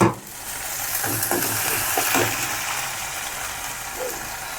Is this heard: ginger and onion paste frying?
yes